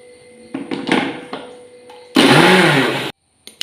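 A mixer grinder blending chutney with curd starts after a few knocks and clunks, running in one loud whirring burst of about a second before cutting off abruptly.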